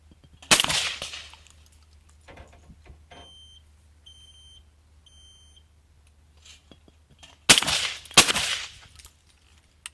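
An Armsan A612 shotgun fires at game balls, two sharp, loud blasts a few seconds apart early on, then a later pair of close, booming shots in quick succession, with quiet handling noise and faint beeps between.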